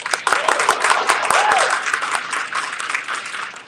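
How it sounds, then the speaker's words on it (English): A Baltimore audience gives a round of applause at a giving-campaign finale, dense and loud clapping from a crowd that fills the whole moment, with faint voices mixed in. "So let's give them a round of applause."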